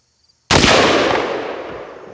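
.223/5.56 rifle fired at a target, a single loud, close crack that cuts in abruptly after near silence and trails off in a long fading echo.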